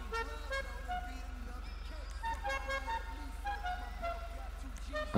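Car horns honking repeatedly in the city streets of GTA V, overlapping toots from several vehicles over steady engine and traffic noise while a voice talks throughout.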